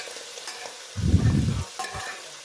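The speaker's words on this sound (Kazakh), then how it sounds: "Еттің бәрін қосып, араластырып қуырамыз." Meat for kuyrdak sizzles softly in hot oil, and one loud, scraping stir lasts about half a second before the steady frying hiss returns.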